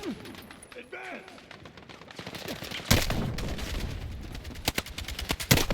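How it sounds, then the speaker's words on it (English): Heavy gunfire in the Battlefield 6 campaign: after quieter voices and ambience, loud overlapping rifle shots and bursts erupt and keep cracking at close range, with shouted voices mixed underneath. "Taking heavy fire!"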